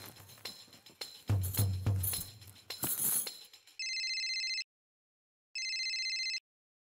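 A telephone rings twice in steady electronic bursts with a pause between them, following a stretch of clattering household noise.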